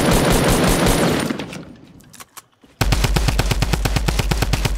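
Automatic weapon fire in Fortnite Battle Royale: dense bursts fade to a few scattered shots, a brief lull, then a loud steady stream of rapid evenly spaced rounds.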